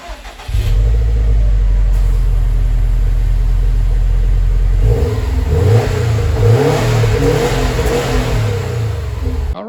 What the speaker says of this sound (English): get this thing fired up and give you a baseline for what it sounds like with the stock